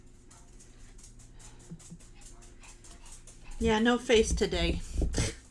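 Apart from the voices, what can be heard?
dog Penny barking outside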